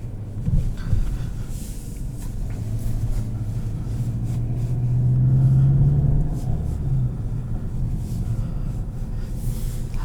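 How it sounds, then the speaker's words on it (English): Volkswagen Jetta GLI (2021, DSG) in sport mode gives a steady, throaty low engine and intake drone on the road, swelling louder mid-drive and then easing, with no talk over it. "Really adds a nice throaty intake noise to the vehicle"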